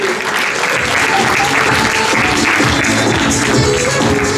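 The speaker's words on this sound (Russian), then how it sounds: "Тогда бурные аплодисменты." Dense, stormy applause from an audience at a Palestinian culture day event with an exhibition, steady and loud for the full span with no break in the clapping.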